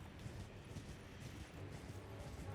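Rhythmic hoofbeats of a galloping horse in the video game Elden Ring, steady and continuous at moderate volume, layered over a low rumbling background.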